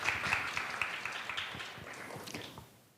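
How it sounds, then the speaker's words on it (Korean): Conference audience applauding to welcome the moderator of a discussion session, a scattered patter of claps at moderate distance that gradually thins and fades out. "여러분 큰 박수로 환영해 주십시오"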